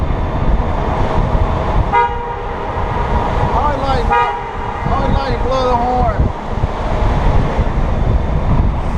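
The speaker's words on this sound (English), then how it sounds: "And we're going through the tunnel. Always like to blow the horn." A Honda GoldWing motorcycle horn sounds inside a tunnel, several tonal honks echoing over the steady rush of wind and engine noise.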